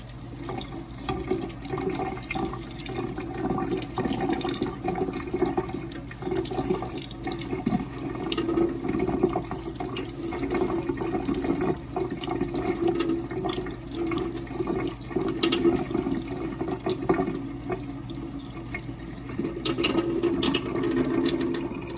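Tap water runs steadily into a sink while a bouncy egg is washed, a continuous close splashing flow with small fluctuations and no talking.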